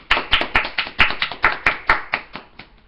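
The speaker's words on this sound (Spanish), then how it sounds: "un fuerte aplauso para él." A small audience claps to welcome a guest for an interview, a dozen or so distinct, evenly spaced hand claps, close and clear, fading slightly toward the end.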